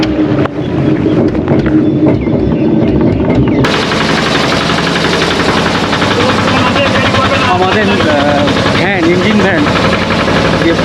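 A ferry's engine throbs loudly as it pulls away from a river jetty, steady heavy chugging with wind and water noise and voices in the background.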